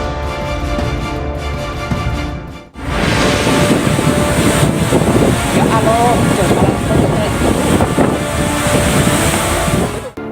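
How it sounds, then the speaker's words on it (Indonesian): Strong wind blows during a storm in Banyumas, a loud, continuous roar of gusts buffeting the microphone. A brief dip comes early, then the rushing noise returns and holds steady. "Hujan deras dan angin kencang terjang Banyumas pada 20 Januari 2021."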